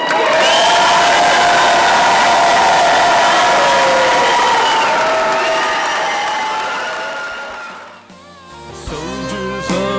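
A large crowd gives loud sustained applause with cheers and whoops to welcome home veterans returning on an Honor Flight, a dense roar that slowly fades before music begins.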